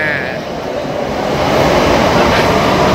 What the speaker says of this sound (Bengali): ওটার সাথে সাথে এইভাবে ট্রেনটা আমাদেরকে ছেড়ে চলে গেল।